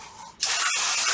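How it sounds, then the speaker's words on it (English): A sharp burst of spray hisses on suddenly and holds steady for a second, loud and close, spraying surface dust off a Porsche 997 car wheel. "So I'm going to spray that off."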